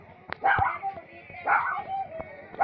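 A dog barking at a visitor who has arrived, a few short sharp barks and yips at moderate distance, spaced about a second apart, with someone talking over them.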